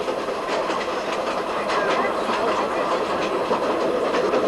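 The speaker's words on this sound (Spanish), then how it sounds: "un ferrocarril de trocha angosta desciende junto al Vilcanota hacia la selva." Narrow-gauge train descending beside the Vilcanota river from Ollantaytambo toward the jungle in Peru, a steady loud rumble and hiss with a rhythmic clickety-clack of wheels on rail joints, continuous throughout with no voices.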